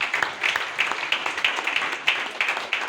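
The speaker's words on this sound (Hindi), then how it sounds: "एक जबरदस्त ताली इसके लिए" Audience clapping at a business plan seminar, a modest scattering of hands with uneven, pulsing bursts, moderately close and without voices over it.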